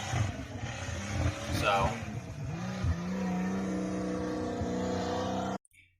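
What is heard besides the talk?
Toyota Cressida car driving, first drive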